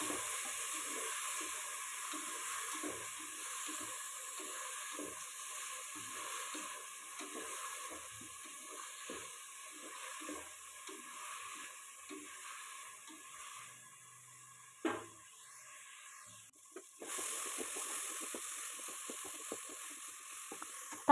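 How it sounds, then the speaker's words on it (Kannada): Chopped tomatoes sautéing in a pan of tempering oil while making a fenugreek and dill leaf pulao, with a steady low sizzle, occasional stirring scrapes and a brief clatter near the end, no talking. "ಚೆನ್ನಾಗಿ ಒಗ್ಗರಣೆಯಲ್ಲಿ ಚೆನ್ನಾಗಿ ಟೊಮೊಟೊನ ಬಾಡಿಸ್ಕೊಳ್ಬೇಕು"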